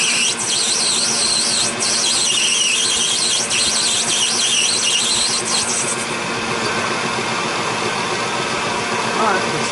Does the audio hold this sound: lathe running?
yes